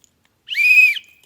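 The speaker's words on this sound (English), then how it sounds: "got a whistle" A survival-kit safety whistle gives a single short, shrill blast lasting about half a second. It is loud and close, with nothing else sounding around it.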